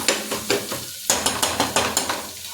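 Bottle gourd bhaji is stirred in a pan with a spoon scraping the metal in steady, repeated strokes, about ten over a couple of seconds, with a soft sizzle underneath and no voices.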